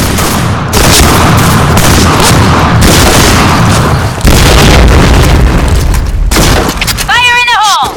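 Loud booming grenade blasts and dense gunfire in the Point Blank shooter game, a near-continuous roar of explosions with sharp onsets, ending in a short warbling electronic tone; a voice calls out over it.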